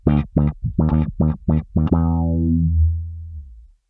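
Six or so plucked bass guitar notes in a quick rhythm, thick and processed by an effects pedal, the last one ringing out and slowly fading over a couple of seconds.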